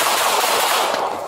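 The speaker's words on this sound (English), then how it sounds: "Shots fired!" Police gunfire during a domestic incident, a dense, loud burst of rapid shots blurring into one continuous crackling roar with no talk.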